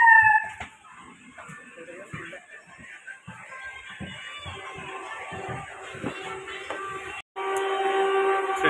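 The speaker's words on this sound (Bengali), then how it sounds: "ওই আমাদের ট্রেন আসছে।" A train approaches a railway platform with a long rumble and horn-like tones building toward the end, while people talk nearby.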